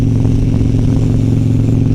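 A 1999 Harley-Davidson Sportster 1200 XL motorcycle being ridden, its V-twin engine rumbling loud and close in a steady, throbbing drone with no speech.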